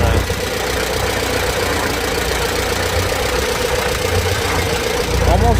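A Farmall 200 tractor engine runs steadily at auction, a loud continuous low rumble with a faint irregular knock or hydraulic-like noise coming and going beneath it.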